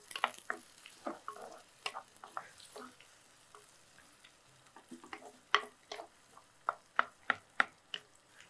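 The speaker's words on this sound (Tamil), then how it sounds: "நம்ம அப்படியே லோ ஃப்ளேமில் வதக்கி எடுத்துக்கலாம்" Onions sauté on a low flame in a pan for a Thoothukudi dried fish and egg curry. A faint sizzle sits beneath quiet, irregular taps and scrapes from stirring, growing sharper toward the end.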